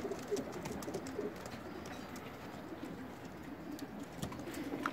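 Baby pigeons of a Pakistani high-flyer breed coo softly in a loft in Saudi Arabia, with a steady low murmur of calls, faint rustling and a few chirps, and no voices.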